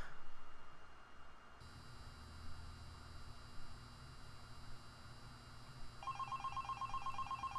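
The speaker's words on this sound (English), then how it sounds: "Alright, phone call." A telephone rings repeatedly in Five Nights at Candy's Remastered over a steady electronic hum, the ring tone entering partway through and continuing clearly to the end.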